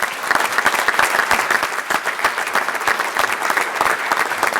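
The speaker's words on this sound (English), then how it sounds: "Let's give Bo a big round of applause." Breakfast audience at a sports event giving a round of applause for a man named Bo: even, sustained clapping from a large crowd, steady and fairly loud throughout, with no voices over it.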